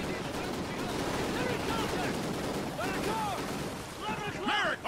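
Rapid gunfire in Call of Duty: Ghosts, a continuous crackling stream of shots under several voices speaking over the shooting.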